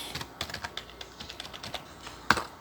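Keystrokes on a computer keyboard as a cd command is typed into the Windows 7 command prompt: a quick, uneven run of close, light clicks, ending with one sharper, louder key press.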